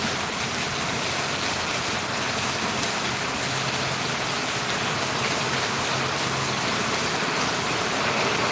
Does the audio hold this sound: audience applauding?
no